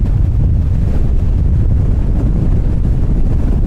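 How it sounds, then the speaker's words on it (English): Strong gale-force wind on a sea wall, a loud continuous low roar buffeting the microphone without letup, with no voices. "It is so windy around here."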